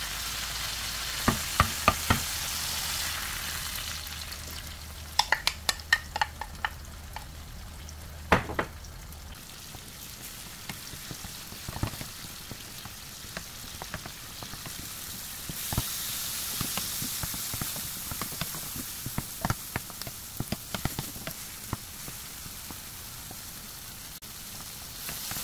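Tomato and eggs frying in a pan, a steady sizzle with scattered sharp crackles and stirring scrapes throughout, no talk.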